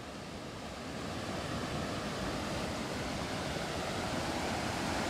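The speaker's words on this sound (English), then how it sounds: "see all the water coming down?" On an Azores island, water runs down a slope toward the ocean, a broad, steady roar of rushing flow mixed with wind buffeting the microphone, loud and continuous without speech.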